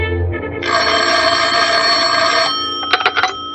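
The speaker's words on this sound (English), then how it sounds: "The phone rang" A telephone bell rings loudly in an old radio drama, one long sustained metallic ring that then stops, followed by a few short clicks as the receiver is handled.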